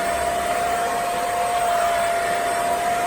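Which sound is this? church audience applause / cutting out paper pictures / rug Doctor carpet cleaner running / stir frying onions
rug Doctor carpet cleaner running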